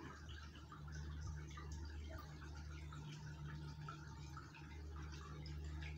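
A washing machine pumps out its rinse water, giving a steady low hum with faint trickling and gurgling, quiet and continuous with no voices.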